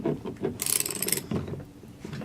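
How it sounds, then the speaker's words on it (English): A 7/8 inch socket wrench loosening the diaphragm nuts on a half-inch PTFE air-operated diaphragm pump, giving a quick burst of ratcheting clicks between a few dull knocks, close and clear. "Just beginning to break them free,"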